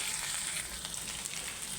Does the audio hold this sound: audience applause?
no